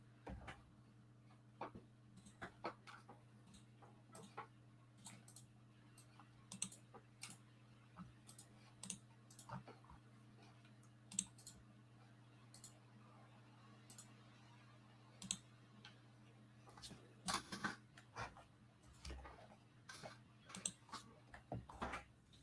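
Keys clack on a computer keyboard during a typing session, a quiet, irregular run of sharp clicks that comes in short bursts over a low steady hum.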